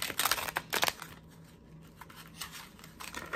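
Quick papery riffles and flicks of tarot cards being shuffled close by, with bursts at the start and end and a quieter pause between.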